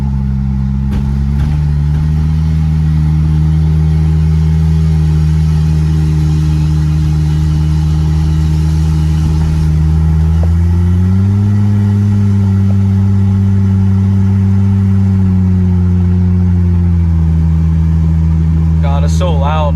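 A single-turbo Lexus GS300 drives along with a loud, droning engine note that holds steady and then rises as it accelerates, heard close from inside the car, with the driver talking over it.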